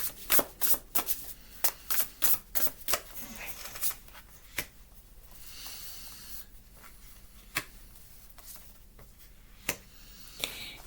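Tarot cards shuffled by hand in a run of crisp riffling snaps and flutters, loud at first and then sparser, with a faint voice speaking lightly beneath.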